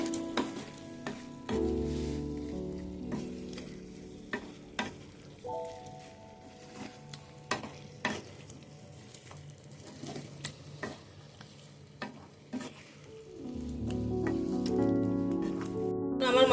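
Chicken pieces and fried potatoes being stir-fried in an oiled pan, with soft sizzling and intermittent scraping stirs and knocks against the pan, fairly quiet and close, with a low tonal hum at the start and end.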